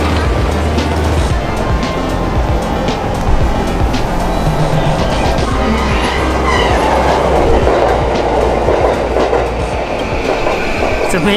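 A Japanese bullet train runs on its rails with a steady, loud rumble and faint rhythmic clicking heard from inside the carriage.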